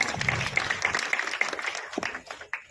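A crowd claps together at a family honoring ceremony, a dense spread of quick overlapping claps that holds steady before thinning out toward the end.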